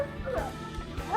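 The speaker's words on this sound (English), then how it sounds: "We have a dog barking." A dog barks outdoors near a grill, several whining and yipping barks in quick succession at a moderate distance, with no one talking over them.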